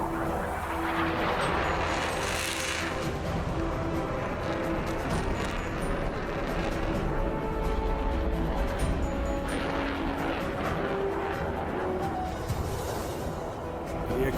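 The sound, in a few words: F-16 fighter jet flying an airshow display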